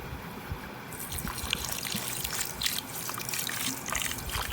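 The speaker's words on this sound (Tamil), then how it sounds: "போதும், அது மூழ்கிற அளவுக்கு தண்ணி இருந்தால் போதும்." Water poured steadily over semolina and sugar in a bowl while making kachayam, a continuous soft trickling that grows slightly fuller after the first second, with no talk.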